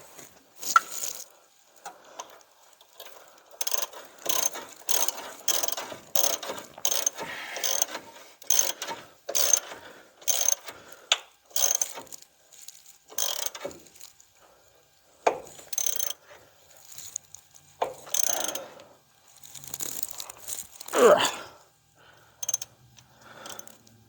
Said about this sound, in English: I think I'll be able to get a wrench on, or a ratchet on that one.